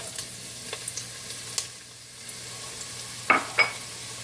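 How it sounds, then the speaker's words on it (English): Onion hitting a hot heavy-bottomed pan for a Chinese okra curry, giving a steady low sizzle with a few sharp clinks of utensils against the pan near the end. "So my pan is hot. What I'm going to do is I'm going to add in my onion."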